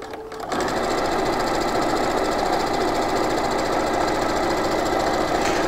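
A sewing machine stitches steadily across the bottom of a weighted blanket made with Cuddle Cloth and quilting cotton, starting after a brief pause and then running loud and continuous with a fast mechanical hum to the end.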